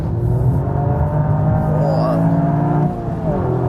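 Toyota sports car engine, high in torque, pulling hard under acceleration on a circuit, a loud steady drone with rising harmonics and one brief dip near the end, close up from inside the cabin.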